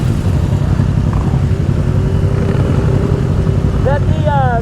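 Sport motorcycles, a Ninja 650 among them, ride close by with a steady engine drone, and a revving whine climbs near the end.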